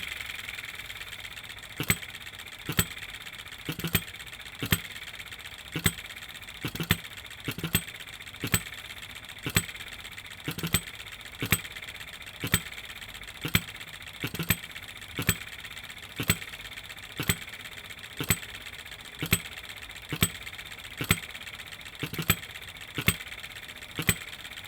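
A small model stationary engine runs steadily with sharp, evenly spaced knocks about once a second over a continuous mechanical whir, heard close up with no voices.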